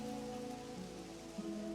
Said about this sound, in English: Now, heavy rains harry the region, threatening to wash away its very history.